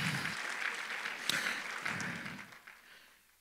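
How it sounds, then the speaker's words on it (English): A church congregation claps together during a sermon, a steady burst of many hands that fades out toward the end, moderately distant. "Let's give God a clap offering."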